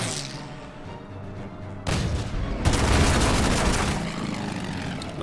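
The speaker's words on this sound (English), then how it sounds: "Now here comes probably the artillery" Artillery fire in the Order of Battle strategy game during a desert battle, a sudden heavy boom followed by a dense, roaring barrage of explosions that sustains loudly before easing slightly.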